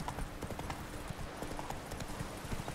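Horse hooves clip-clop steadily in The Witcher 3, a quiet, even trotting rhythm that runs alone for a few seconds without talk.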